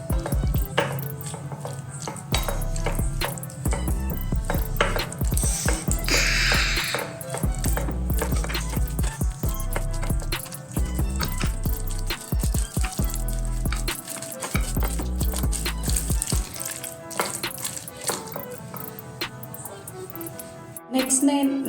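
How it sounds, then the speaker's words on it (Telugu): Chicken noodle ingredients, including ginger garlic paste and a spoon of cornflour, are stirred together in a bowl. The mixing makes wet scraping and clinking, with a voice talking over it throughout. "ఇదంతా మిక్స్ చేసుకుందామండి"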